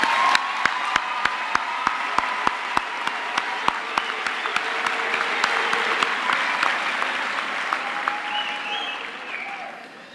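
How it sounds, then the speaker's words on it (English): An audience at a university graduation ceremony applauds the graduates with sustained, dense clapping from a large crowd indoors, steady and loud, with a few sharp individual claps standing out and fading slightly at the end. "I think we can give all our graduates another hand of applause."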